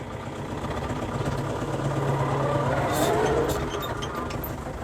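Scout TB-904C compact tractor engine running steadily, a close, even diesel drone pulling away in second gear, continuous and unbroken with no talk over it.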